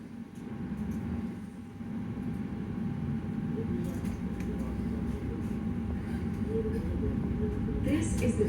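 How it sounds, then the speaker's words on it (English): An Elizabeth line train sits at Reading with its doors locked, about to depart for Paddington, giving a steady low rumble and hum of idling traction equipment, with faint higher clicks and hiss near the end. "This Elizabeth line train is ready to leave because the doors are now locked."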